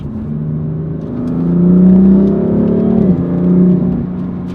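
A BMW M4 Competition engine revs up loudly, then drops pitch sharply in a downshift with a brief blip, roaring on close by with no talk.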